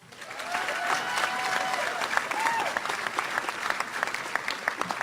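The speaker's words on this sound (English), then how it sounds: "Have another round of applause for these hardworking house officers" An audience at a veterinary college oath and hooding ceremony applauds graduating house officers. The clapping rises quickly and stays dense, with a few voices briefly audible beneath the steady patter.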